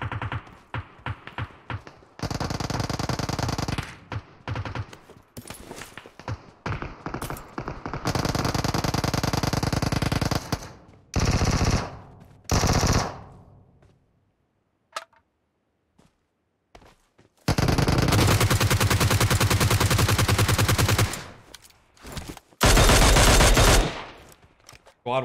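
Automatic G36 rifle fire in an arcade-style battle video game comes in loud sustained bursts separated by short pauses and near-silent gaps, with a few quieter single shots and faint footsteps.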